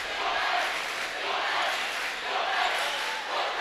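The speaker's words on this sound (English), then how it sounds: "A lot of crowd noise" Crowd noise in a full gym at a high school boys' basketball game, a constant roar of many voices with swelling cheers, no single voice standing out.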